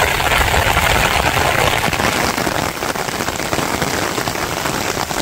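Steady rain pours down over an open field in a Bangladeshi village, a dense, even hiss of drops close by that holds at a constant loud level throughout, with no voices.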